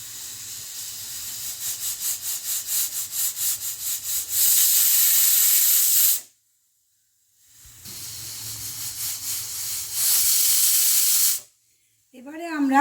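A pressure cooker cooking mixed dal and vegetable khichdi on full flame puffs rhythmically, then gives two long, loud whistling hisses of steam separated by a brief silence. A voice is briefly heard at the end.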